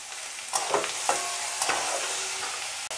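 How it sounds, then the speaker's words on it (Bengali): Vegetables with salt, turmeric, sugar and chaat masala sizzle and fry in a pan for a paneer momo filling, a steady hiss broken by several scraping stirs of a spatula, with no talking. "সব মশলাগুলো দিয়ে ভাজা ভাজা করব।"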